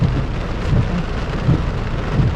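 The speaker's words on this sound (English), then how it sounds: "Because it's raining quite heavy" Heavy rain drums steadily on a car's roof and windows during a driving lesson, a loud, continuous wash of noise with no talk.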